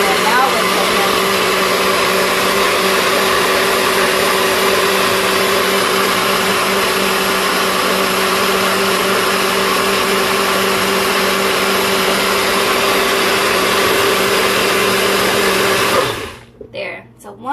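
A blender runs steadily at full power, a loud continuous whir as it breaks down kale for a green smoothie, then cuts off abruptly near the end.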